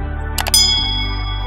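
A bright notification-bell ding sound effect rings out with a quick clicky double onset, then a sustained metallic tone that slowly fades over a low hum.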